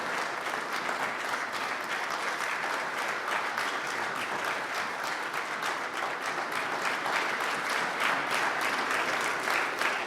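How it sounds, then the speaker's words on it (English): A large audience applauding the arrival of Minister Louis Farrakhan at a lecture hall event: dense, sustained clapping that fills the room evenly, loud and unbroken throughout. "Let's bring him on, brothers and sisters, with the round of applause he deserves."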